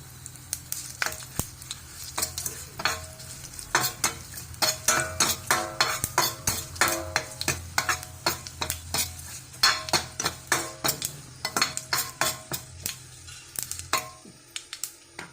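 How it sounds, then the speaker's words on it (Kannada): Cumin seeds sizzle and crackle in hot oil in a pan for a village-style wild mango gojju, with steady frying hiss under frequent sharp clinks and scrapes of a stirring spoon against the vessel, close and continuous throughout. "ಜೀರಿಗೆನ ಹಾಕ್ಕೊಳ್ಳೋಣ ಈಗ."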